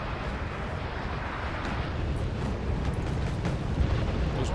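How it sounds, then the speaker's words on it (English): Mortar fire in the real-time strategy game Wargame: Red Dragon comes through as a dense, continuous rumbling roar of battle that swells slightly toward the end, with no gaps of quiet. "Those mortars though."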